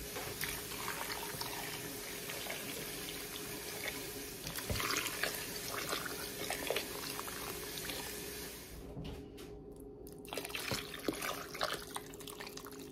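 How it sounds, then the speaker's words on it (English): Seven cups of water poured into a crockpot over a smoked ham hock, a steady splashing, running flow close by that pauses briefly near the end and then resumes. "we added our 7 cups of water, which pretty much covered our meat"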